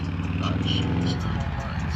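A Harley motorcycle passes a car dealer lot in Marlette on the first day of spring, a close, loud low engine rumble throughout, with music audible from the bike.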